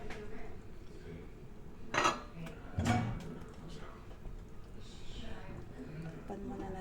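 A lid is set on a pot of fish curry, two sharp metallic clanks a second apart amid light kitchen clatter, with a voice talking quietly in the background.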